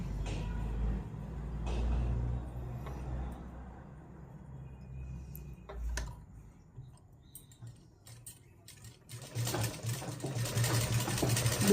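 A sewing machine stitches fabric in quiet, rapid mechanical runs, with a low rumble and faint ticking that grow busier and louder toward the end.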